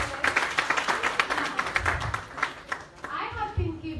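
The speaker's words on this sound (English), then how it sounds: "Can you give a round of applause for them?" Audience clapping at a women's summit, an uneven patter of hands under crowd chatter and voices, thinning out toward the end.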